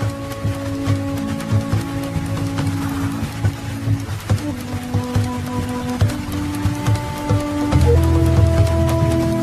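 Monsoon rain falling outdoors in a tiger's habitat, a dense steady patter of drops with scattered sharper hits, constant and fairly loud under a low tonal hum, with no talking.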